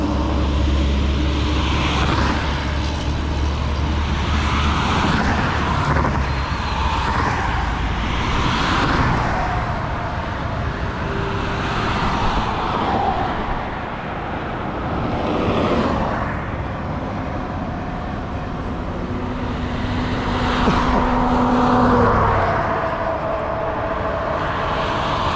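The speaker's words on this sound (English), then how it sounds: "Traffic is picking up." Steady road traffic rolling past during a bicycle ride in the Upper Tampa Bay area, a continuous broad engine and tire rumble that swells and fades as vehicles go by, moderately close, with no talking.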